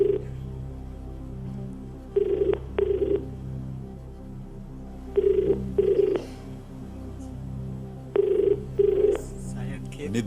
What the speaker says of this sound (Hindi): कबीर जी, वनराज जी के पिताजी का फोन लगाइए।